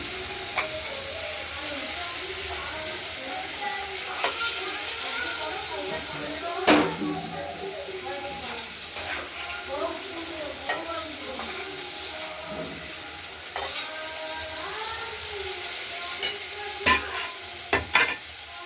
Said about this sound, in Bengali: টমেটো দিয়ে দিলাম। টমেটোটা একটু গলুক, তারপর মশলাটা দেবো।